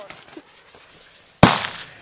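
One loud, sharp firework bang goes off outdoors after a stretch of quiet with faint voices, its report ringing out and decaying over the next half second.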